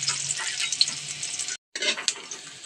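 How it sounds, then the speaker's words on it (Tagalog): Garlic, onion and ginger sizzle in a hot pan, a steady bright frying hiss with occasional stirring scrapes and a brief pause partway through. "igisa na natin ang bawang, sibuyas at luya"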